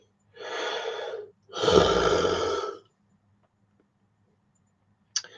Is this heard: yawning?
yes